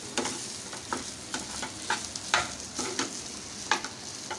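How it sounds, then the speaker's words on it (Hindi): Potato stuffing with coriander is stirred in a hot pan, with a soft steady sizzle broken by rhythmic scraping strokes of the spoon about every half second, close and alone. "डालेंगे धनिया और इसको अच्छी तरह से मिक्स कर लेंगे"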